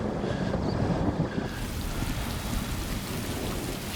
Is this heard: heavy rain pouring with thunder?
yes